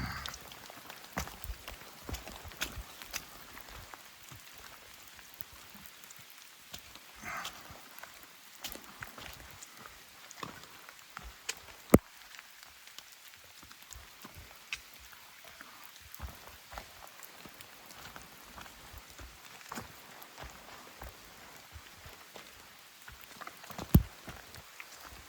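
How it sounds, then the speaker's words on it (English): Soft, steady rain pattering on surfaces outdoors, a continuous light patter with a couple of sharp drips or taps. "Still raining"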